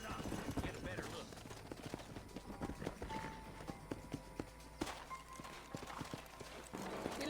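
Horse hooves clip-clopping at a run in the Western video game Red Dead Redemption, a steady fast patter under continuous game noise, wind and scattered sounds.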